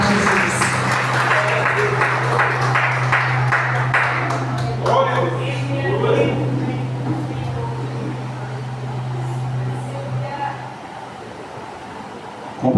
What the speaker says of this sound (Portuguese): com as palmas bem fortes para Jesus